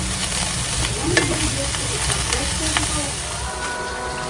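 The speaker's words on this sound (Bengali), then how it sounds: "এখন তো চিকেন রান্না করতেছি মেয়েদের জন্য" Chicken frying in a pan, with a steady sizzle and crackle running throughout and occasional stirring clinks, all heard close up with no talking.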